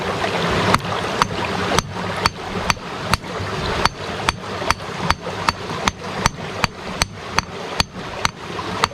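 Steady, loud metallic hammer blows on a huge black jet boulder of a ton or more in the middle of a river, striking in a fast regular rhythm, each clack ringing sharply over constant rushing water close by.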